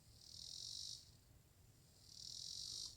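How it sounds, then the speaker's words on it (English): Crickets chirp in a tree outdoors, two loud sustained bursts of shrill trilling with a short quieter gap between them, alone with no voices. "I got crickets and all kinds of stuff making these noises"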